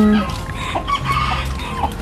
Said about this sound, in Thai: ไก่โปแลนด์ค่ะ